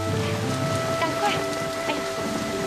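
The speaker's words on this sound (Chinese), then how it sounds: "雨越下越大了" Rain falls steadily outdoors, a soft even patter of drops with faint hiss, fairly quiet and continuous, with a low steady tone underneath and no voices.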